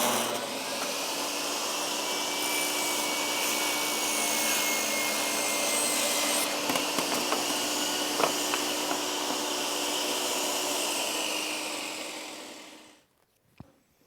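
Table saw crosscutting red oak veneered plywood: a loud, steady cutting whine runs for about thirteen seconds, then winds down and stops, followed by a single sharp knock.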